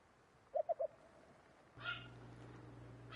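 A dusky grouse in the hunting game Call of the Wild gives three quick, low hooting notes, distinct against a quiet background, followed by a steady low hum and a brief faint sound.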